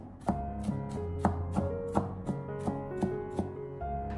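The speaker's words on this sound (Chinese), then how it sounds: "把它剁成蒜末。" Knife chopping sliced garlic cloves into mince on a cutting board, about ten sharp, fairly regular chops close up with no talking.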